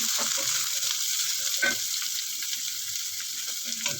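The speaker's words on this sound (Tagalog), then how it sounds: "Ito guys, lagayin na natin yung ating bawang sibuyas at saka yung sili." Garlic, onion and chili frying in hot oil for ginataang sitaw, a dense continuous sizzle with a few soft stirring clatters, close and fairly loud throughout with no talk.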